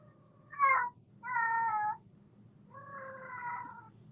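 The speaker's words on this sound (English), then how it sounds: "you can hear my kitty in the background." Pet cat meowing in the background of a room, three separate drawn-out meows, faint and somewhat distant, over a low steady hum with no talk.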